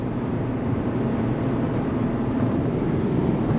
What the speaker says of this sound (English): You can hear it, you can hear the exhaust